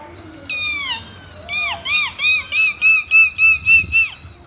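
A voice imitates a parrot's call: a rising squawk, then a run of about eight shrill, regular squawks, loud and close, with no other sound behind it.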